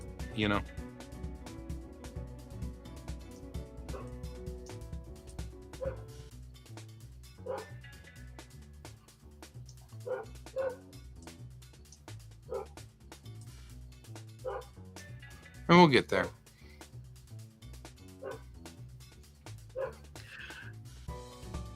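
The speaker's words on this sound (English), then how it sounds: "Got a dog. The dog is very, very specifically annoyed by something." A dog barks and whimpers intermittently in the background, short yips and whines scattered under someone talking over low music.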